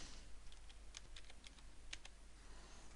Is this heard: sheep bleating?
no